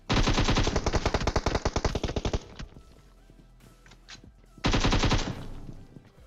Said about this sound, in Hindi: और साइड से कोई M4 पटका देता है